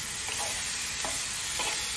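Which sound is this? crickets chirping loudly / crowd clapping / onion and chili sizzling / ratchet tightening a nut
onion and chili sizzling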